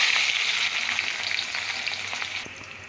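Onions and whole spices, black peppercorns and a black cardamom among them, frying in hot oil for Eid keema, a steady close sizzle that eases off slightly near the end.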